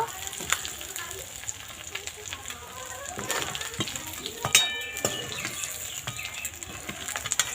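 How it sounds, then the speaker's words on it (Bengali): A fish fries in a pan for village-style mixed fried rice, with crackling sizzle beneath scattered spatula scrapes and knocks and one sharp clink near the middle, all close by. "মাছটা ভালো করে ভেজে নিয়েছি এবার তুলে নেব"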